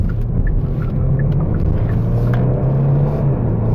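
A 2022 Kia Stinger GT2 sports sedan accelerates, its engine a steady, loud low rumble that holds throughout with a faint rising drone from inside the cabin.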